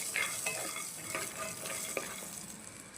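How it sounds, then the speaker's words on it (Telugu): Ginger and coconut fry gently in a pan over low heat, a soft steady sizzle broken by light scraping stirs of a utensil against the pan at a few irregular moments. "చక్కగా ఇలా ఫ్రై చేసేసుకోవాలి సిమ్లో పెట్టేసుకొని"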